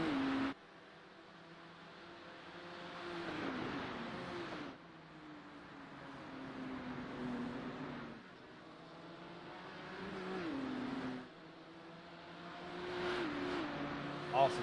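Race cars lapping Mount Panorama in a sim racing video game, engines revving and rising through gears in repeated surges, with upshifts and a final distant pass, heard from an onboard perspective at moderate volume.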